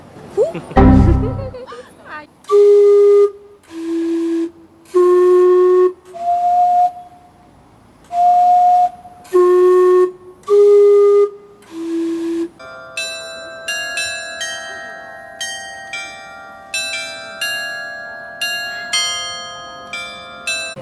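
The Otaru steam clock in Hokkaido, a gift from Vancouver, sounds about eight long steam-whistle tones in a slow, halting tune. A ringing chime melody follows with steady, evenly paced notes, after a brief voice at the very start.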